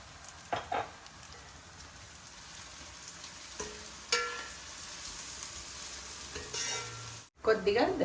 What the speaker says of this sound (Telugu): మన ఉల్లిపాయలు వేగుతున్నాయి కదా